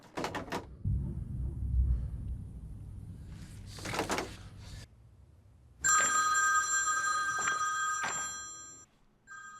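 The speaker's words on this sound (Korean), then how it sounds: "비비는 갑자기 걸려온 전화에 알 수 없는 불안감을 느껴 받지 않았습니다" A telephone rings in a French crime melodrama scene with a sustained bright electronic ring partway through, following a few door-like knocks and thuds earlier, no speech over it.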